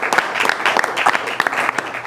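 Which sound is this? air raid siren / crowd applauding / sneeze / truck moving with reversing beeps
crowd applauding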